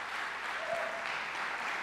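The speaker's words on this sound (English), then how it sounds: "Give a round of applause." Audience applause at a keynote speech for an ACES closing event, a steady wash of clapping from a large crowd throughout, fairly loud and even with no talk over it.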